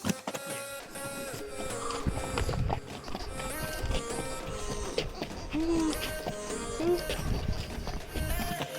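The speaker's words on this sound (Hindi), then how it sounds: "तो शुरू हो गई है हमारी घुड़सवारी" Horse hooves clip-clop in an irregular rhythm during a trail ride in Matheran, Maharashtra, mixed with a busy clutter of background sounds and a couple of short animal calls.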